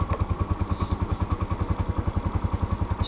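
A Chinese Baja SC50 scooter with a GY6 engine runs close by in a steady, rapid low chugging idle, its small single-cylinder pulses even and continuous, with a light mechanical clatter on top.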